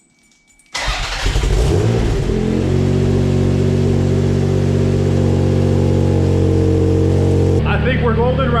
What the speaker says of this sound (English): Next step is to turn on the car.